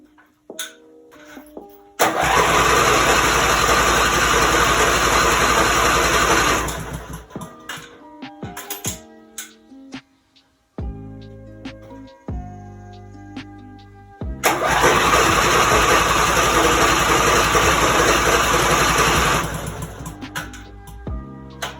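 A lawn mower with a faulty carburetor is started, catching into a loud, steady running roar for several seconds, dying off, then roaring again after a stretch of clattering handling noises.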